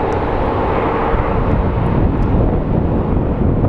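Airplane passing over Phoenix Sky Harbor International Airport, a steady, loud jet engine roar that holds for several seconds alongside some wind noise on the microphone.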